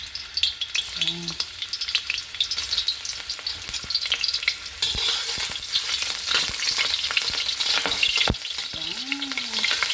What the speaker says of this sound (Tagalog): unahin muna natin lutuin yung ating ginger